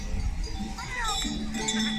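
Sheep and goats bleat on a mountain highland pasture at Dikmen near Hendek during a seasonal move, with short calls rising over a busy, close outdoor background.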